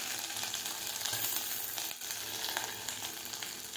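Chopped ginger and garlic fry in hot oil for a cauliflower and egg curry, giving a steady, dense, close sizzle with no talking.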